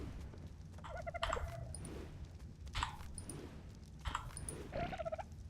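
Chickens in the survival game Ark Survival Evolved, a few clucks and squawks in separate short bursts over a low steady background hum, fairly quiet.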